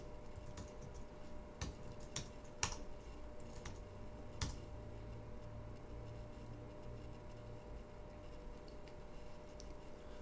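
Keys tapped on a computer keyboard as a command is entered, a run of quiet, irregular clicks with a few sharper presses over a faint steady hum, no voices.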